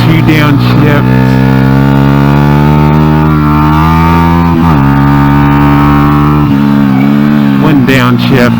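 A Honda NSF100 motorcycle fitted with a salvaged XR100 engine downshifts twice, its loud, close engine note dropping and then flaring in pitch at each shift, continuous and buzzing throughout.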